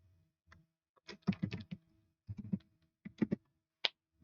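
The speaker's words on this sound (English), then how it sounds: "if I can type it right." Irregular bursts of keystrokes clatter on a computer keyboard, close and fairly quiet, typed in short uneven clusters with brief pauses between them.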